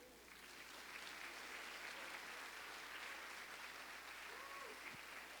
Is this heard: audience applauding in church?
yes